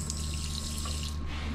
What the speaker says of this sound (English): The faucet will actually spray to let you know that it is connected.